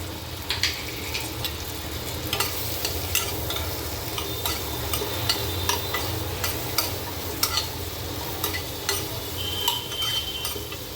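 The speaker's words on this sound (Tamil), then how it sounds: "இது எல்லாம் பட்டர்லேயே நல்லா ஓரளவுக்கு வசங்கணும்" Ginger and garlic fry in butter in a pan for butter chicken, a steady sizzle broken by frequent sharp clicks of a utensil stirring against the pan, close and continuous with no talking.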